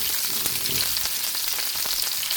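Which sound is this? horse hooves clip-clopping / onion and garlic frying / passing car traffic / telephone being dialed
onion and garlic frying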